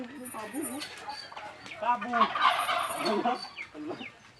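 Several turkeys gobble in quick warbling bursts, fairly close, with a few clucks and soft voices mixed in.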